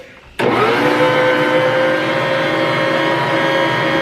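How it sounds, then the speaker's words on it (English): A stand mixer motor whirs on abruptly after a moment of quiet and keeps running with a steady, loud droning hum and a slight laboring tone as it kneads bread dough. "let's go ahead and get this mixer going"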